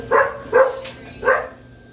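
A poodle barks three times close by, two quick barks followed by a short pause and a third.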